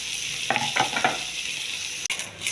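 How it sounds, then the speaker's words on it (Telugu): Cucumber pieces go into a hot pan with tomato for a chutney, sizzling steadily while a utensil stirs them in a few short scraping strokes, close and fairly loud. "దోసకాయ ముక్కలు ఇవి కూడా వేయాలి."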